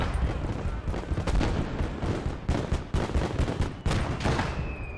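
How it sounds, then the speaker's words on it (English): Mortar and gunfire in the World War II strategy game Call to Arms: Gates of Hell: a dense, loud barrage of booming blasts and crackling shots, with a voice speaking briefly. "Mortars now doing their job."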